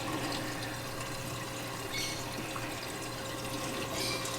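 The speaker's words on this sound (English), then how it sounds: "All I got to do is turn the gate valve to let the water in." Water rushing into a bio pellet reactor on a Red Sea Reefer 350 reef aquarium after a gate valve is opened, a steady close gurgling flow with faint bubbling, unbroken throughout and without voices.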